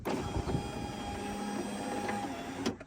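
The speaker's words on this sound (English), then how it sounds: "Window up." Electric window motor on an R33 Nissan Skyline raising the glass: a steady, close mechanical whine for nearly three seconds, ending in a brief thump as it stops.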